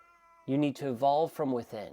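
A cat, Thaddeus, meows repeatedly at close range, giving several drawn-out, wavering cries in a row while a person speaks alongside.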